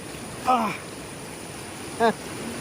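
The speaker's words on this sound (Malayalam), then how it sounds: "ഇവിടെ നല്ല ഒഴുക്കുണ്ട്" A steady wash of fast-flowing stream water in a Kerala village runs throughout, broken by two short voice-like calls.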